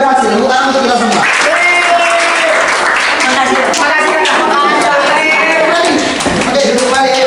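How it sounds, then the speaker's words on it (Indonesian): A group at a school leadership training session breaks into loud, lively clapping and cheering, energetic applause with voices shouting over it throughout. "Tepuk tangan untuk kita semua."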